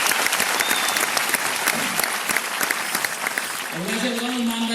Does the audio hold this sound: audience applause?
yes